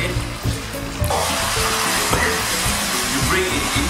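Chili crab sauce bubbling and sizzling steadily in a pan over high heat, a continuous close hiss with small pops and a scrape of stirring.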